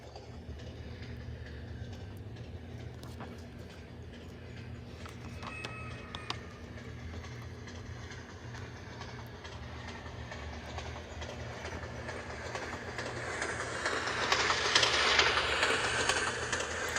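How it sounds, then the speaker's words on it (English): MTH Christmas model train rolling steadily along its track, a continuous low rumble with faint rhythmic clickety-clack that swells slightly as it passes closer near the end. "There's the click-clack sound for you."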